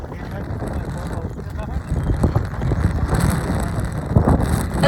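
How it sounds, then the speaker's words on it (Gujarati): Rain falls under a cool, gusting wind that buffets the microphone, giving a continuous rough hiss that swells louder in the second half, with a voice faintly present. "વરસાદ થયો છે ને કેવો ઠંડો ઠંડો પવન આવે"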